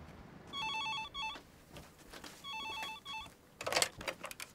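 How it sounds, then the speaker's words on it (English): A landline phone rings in two repeated electronic trilling bursts. It is followed by a louder clatter as the handset is picked up. The ringing is close and clear with no talk over it. "My phone's ringing."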